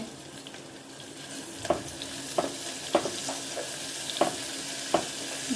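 Green chili and onions sauté with salt in a pan for mushroom pulao. A steady soft sizzle is broken by sharp scraping stirs roughly every half second to second, with no talking.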